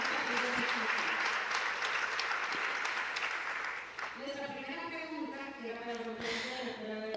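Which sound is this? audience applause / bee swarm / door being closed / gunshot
audience applause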